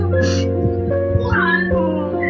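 A cat meows a few times close by, short rising cries over a steady low hum.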